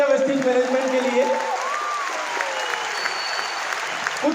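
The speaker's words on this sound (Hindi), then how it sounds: "एक बार जोरदार तालियां वेस्टीज मैनेजमेंट के लिए।" An audience at a company event claps in sustained, even applause while a voice and a sliding musical or vocal tone carry over the top early on.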